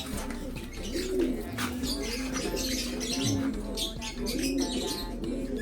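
Racing pigeons coo in soft, repeated rising-and-falling calls close by, with chirps and a constant background murmur of other birds.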